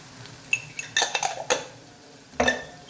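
A spoon scrapes and clinks against a pan as masala spices, ground hot chillies and salt are stirred together for a masala dosa filling. A few close, bright metallic knocks come in short bursts with no talk.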